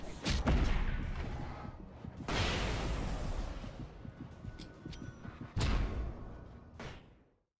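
Heavy gunshots in the video game Alan Wake, three big booming blasts spaced seconds apart with crackling reverberant tails and rumbling between them, loud and close, then fading to silence.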